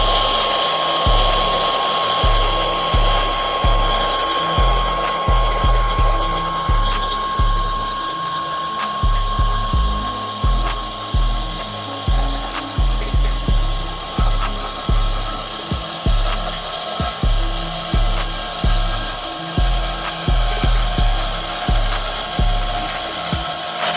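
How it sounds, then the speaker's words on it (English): A Milwaukee Fuel deep cut bandsaw, fitted with an old, worn blade, cuts continuously with a steady whine and a dense, rhythmic low chatter that runs close and loud throughout. "Milwaukee Fuel deep cut bandsaw. Old beat up blade, who knows how many times it's been used."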